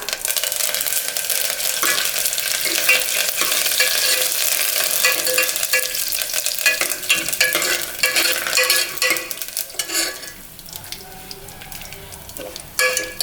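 Curry leaves, urad dal, fenugreek and dried red chillies sizzle loudly in hot oil as a tempering for chow chow sambar, a steady crackling hiss with sharp pops throughout, easing slightly near the end.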